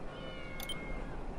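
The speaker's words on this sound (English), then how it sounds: "They meow so much." Cats meow in the video game Tera, with a couple of short, faint mews standing out over a low, busy game background.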